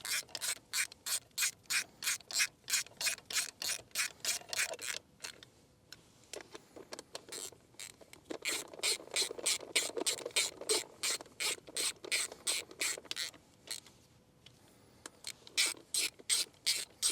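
A ratchet clicks in fast rapid strokes while tightening new bolts on an old four-wheeler that won't start, coming in repeated runs with brief pauses and a short stretch of rubbing, close and moderately loud.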